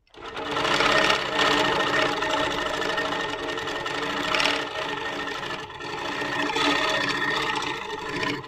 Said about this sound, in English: So on my handlebars, I press start. It's going to go at 14 stitches per inch and 250.